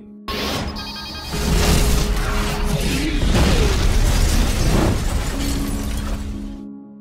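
A remote-controlled bomb hidden in a mobile phone explodes in a film scene, a loud sustained blast with shattering debris and rumble that rolls on for several seconds before cutting off.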